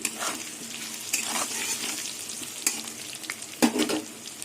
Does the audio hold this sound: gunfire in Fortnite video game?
no